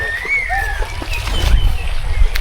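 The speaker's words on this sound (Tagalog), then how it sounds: "Paparinig ko sa inyo yung ibon na humuhuni pagkagabi." Bird calling at night at a spring resort, a few thin wavering whistled notes over low rumbling background noise, with faint thumps and other activity nearby.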